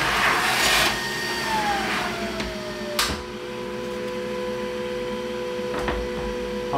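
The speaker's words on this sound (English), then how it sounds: "I like to give the exhaust a moment to pull the rest out of the building." Exhaust fan running after a Creality Falcon 2 Pro laser has finished cutting: a steady, loud mechanical hum with tonal whine, a few clicks and a falling pitch sweep early on.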